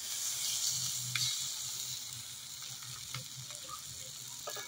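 Flat beans sautéed in a pan until well browned, giving a steady close sizzle with a few soft stirring clicks throughout.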